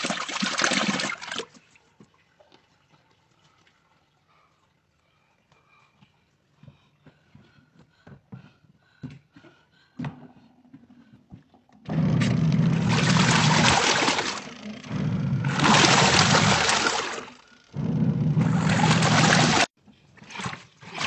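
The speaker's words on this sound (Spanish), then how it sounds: "Ahora sí volvemos a enjuagar con agua limpia y Suavitel." Water sloshing and pouring in a washing machine as a large blanket is rinsed with clean water and fabric softener, with a brief splash at the start, a quiet stretch of faint trickling, then three loud bursts of gushing water.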